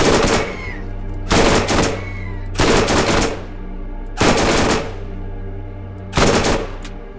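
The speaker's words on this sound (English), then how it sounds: "I'll just gun these things down." In the video game Borderlands, five loud bursts of rapid gunfire cut down enemies, each spaced a second or two apart, with a low game hum between bursts and no speech.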